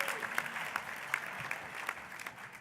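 Audience applause at a conference keynote luncheon, a steady wash of many hands clapping at moderate distance, fairly quiet throughout, with a few sharper claps standing out.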